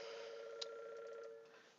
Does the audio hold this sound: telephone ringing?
yes